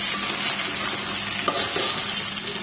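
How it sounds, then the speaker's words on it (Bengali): Oil sizzles steadily as potatoes fry in a wok, with stirring scrapes and a light clatter of the spatula, close and continuous. "কড়াইয়ে দিয়ে ভালো করে ভেজে নেব। তারপর সেখানে কেটে রাখা আলুগুলোকে দিয়ে দিলাম।"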